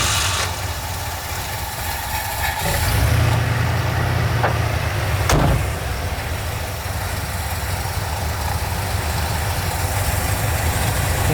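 A big-block motorhome engine idles with a low, steady rumble while the vehicle is backed into place, loud and continuous, with a brief clunk partway through.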